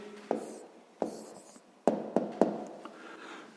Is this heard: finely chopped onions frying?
no